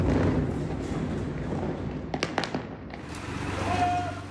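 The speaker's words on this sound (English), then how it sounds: "A cacophony of explosions, echoing hour after hour." A Gaza City street carries a series of explosion-like bangs: a cluster of sharp blasts around the middle, then rolling booms that echo through the air over a constant bed of distant rumble.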